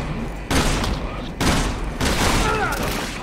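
Bomb explosions and gunfire from the Resident Evil 6 game: loud, dense bursts of blasts and rattling shots that surge, drop briefly and return, close and harsh throughout.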